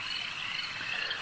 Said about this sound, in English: Just peeper frogs, crickets, bullfrogs, the sounds of crows and vultures in the distance